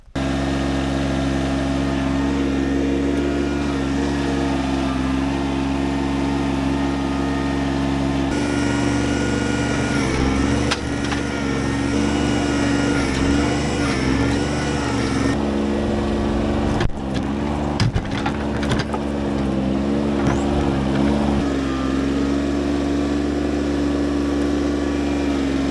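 A John Deere 755 four-wheel-drive compact tractor runs steadily after repair, its small engine droning at a close, constant level with a few slight shifts in pitch and no talking.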